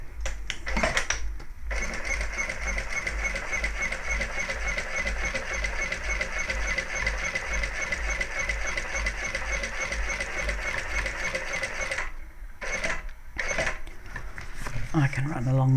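An electric sewing machine runs a second row of top stitching on a handbag, a rapid steady mechanical chatter held for long stretches, with brief stops near the end.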